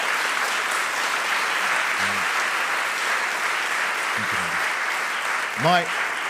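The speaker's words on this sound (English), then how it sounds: "I want to give a special round of applause" Steady applause from a crowd fills the whole stretch, dense and even, with a few brief shouts and voices poking through near the end.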